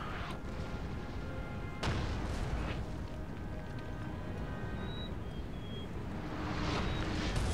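Artillery barrage in Napoleon: Total War, France campaign: a dense, continuous roar of distant booming cannon fire and rumbling battle noise, steady and loud throughout with a few sharper reports, no talking.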